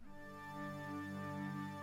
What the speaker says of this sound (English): It really is kind of just like a straight organ with a little bit of space around it.